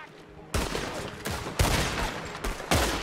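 Red Dead Redemption gunfire during a shootout after the Valentine bank robbery, four separate sharp shots spaced about a second apart, each ringing out with a short echoing tail over a quieter background.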